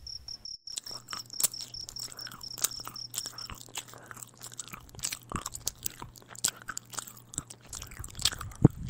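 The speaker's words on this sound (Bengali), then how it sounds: "কৌস্তব হাত মুখ ধুয়ে খেতে বসে পড়ল।" Chewing and crunching of a meal of hot rice and meat in a Bengali horror cartoon, a steady run of close, rhythmic bites set against constant cricket chirping in a quiet night setting.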